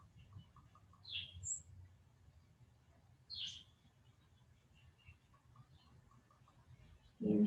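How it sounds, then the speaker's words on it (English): A few faint, brief bird chirps, about three short calls spread across an otherwise quiet background with a soft low hum, ending in a louder thump. "The birds chirping, sound."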